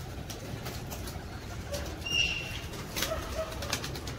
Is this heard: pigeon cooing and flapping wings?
yes